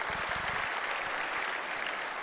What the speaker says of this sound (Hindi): एक बार जबरदस्त तालियां हो जाए उनके लिए।